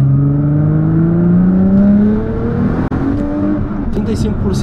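A heavily tuned 1800 hp Nissan GT-R revs hard nearby, its engine note climbing and cutting off as it accelerates on rough asphalt, loud and continuous, with people talking inside the car.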